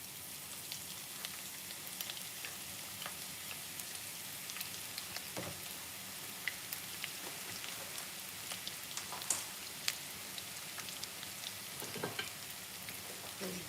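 Onions frying in hot oil on a stove, a faint steady crackling sizzle with scattered pops and brief stirring clatter, no voices.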